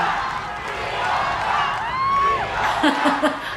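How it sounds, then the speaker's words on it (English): An audience cheers and calls out during a live performance by a singer, a loud, lively crowd swell with a sustained singing tone over it. A person speaks at a lower level underneath. "But people are cheering."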